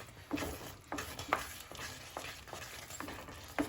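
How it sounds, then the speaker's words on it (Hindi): Butter stirred into pav bhaji in a pan, giving soft repeated scraping strokes and a low sizzle at a steady rhythm, close and fairly quiet, with no talking. "बटर ऐड कर देंगे, और अच्छे से मिला लेंगे"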